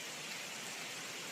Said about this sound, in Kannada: ಮಳೆ ಆ ಥರ ಬರ್ತಾ ಇದೆ.